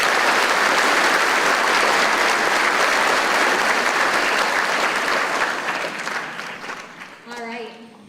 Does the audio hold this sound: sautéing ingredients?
no